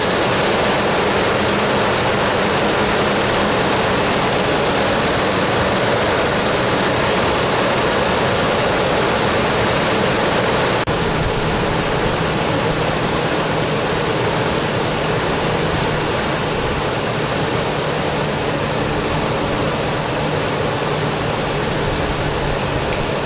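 A Toyota car engine running steadily during thermostat replacement and antifreeze refill, a continuous loud drone with broadband noise and a low hum that holds without change.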